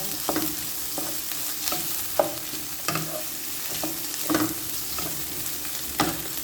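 Shrimp stir-fried in a pan for a Thai glass-noodle dish, a steady sizzle broken by regular scraping strokes of the spatula roughly every half second, close and alone with no voices.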